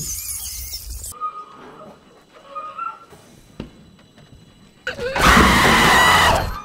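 A woman screams in the film 28 Years Later: quieter, sparse sounds give way to a loud, sustained, piercing scream near the end.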